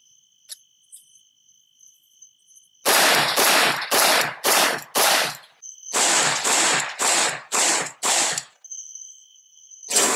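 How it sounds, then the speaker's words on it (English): An AK-47 / AK-74 rifle firing 7.62 rounds from a 16-inch barrel with no muzzle device cracks off about eleven loud, evenly spaced shots in two strings at night, with a steady cricket chirp between bursts. "We're going to fire the rifle with no muzzle device on there at all"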